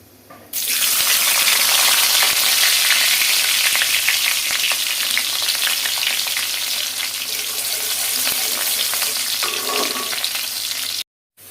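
Loud, steady sizzle of chopped garlic frying in a hot pan, a dense continuous hiss filling the whole stretch with faint clinks of stirring, then stopping abruptly near the end.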